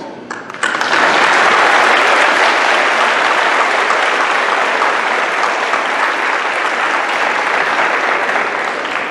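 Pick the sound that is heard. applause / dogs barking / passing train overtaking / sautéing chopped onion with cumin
applause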